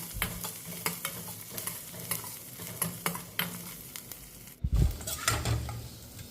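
Pounded spice powder for rasam being sautéed in a pan, with a steady soft sizzle broken by repeated scraping strokes of a spoon and a louder clatter near the end; no one speaks.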